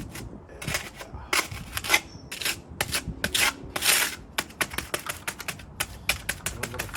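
Plastic float smoothing and flattening freshly laid patio concrete, a series of close, dry rasping scrapes in short uneven strokes with brief pauses between passes.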